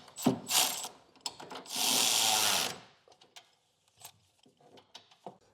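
Mechanical ratcheting and clicking from a ratchet tightening 1.5-inch bolts into the cross members of a 2018 GMC truck during an underbed gooseneck hitch install, with a loud sustained burst in the middle and sparse clicks afterward.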